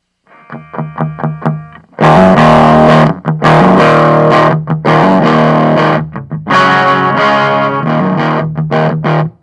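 Electric guitar through a mini Marshall combo amp on the clean channel, volume halfway: a few clean plucked notes, then loud, slightly gritty, somewhat muddy strummed chords ringing out in bursts.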